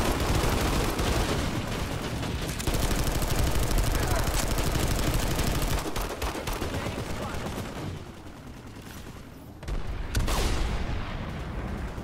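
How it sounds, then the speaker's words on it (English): Video game gunfire with sniper rifle shots rings out amid a dense, continuous barrage of weapons and explosions, loud and busy with a brief lull near the end. "Yes, you are being sniped."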